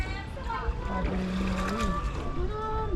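Paddles dip and stroke through the water of a floating market, mixed with wind, people talking, and the busy sounds of boats around it.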